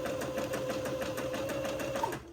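Sewing machine running steadily in a zigzag stitch, attaching lace onto batiste fabric for a funeral pall; a continuous close mechanical whir with rapid rhythmic needle pulses, alone, stopping abruptly at the end.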